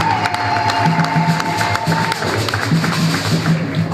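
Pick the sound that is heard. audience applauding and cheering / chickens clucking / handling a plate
audience applauding and cheering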